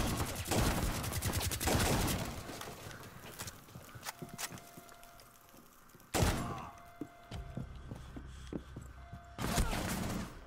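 Bursts of rapid gunfire in the Rainbow Six video game, a dense rattling volley at the start, another sharp burst midway and a third near the end, with quieter clicks and thuds between.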